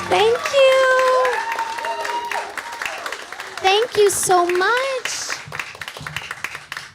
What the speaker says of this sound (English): Can you come to all my shows and cheer like that?